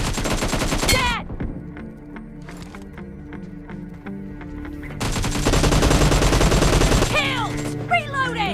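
Rapid automatic gunfire bursts in a battle royale shooter game, loud dense volleys at the start and again in the second half, with a quieter stretch of single spaced shots between them and a voice calling out over the action.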